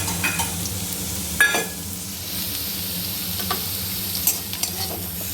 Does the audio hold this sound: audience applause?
no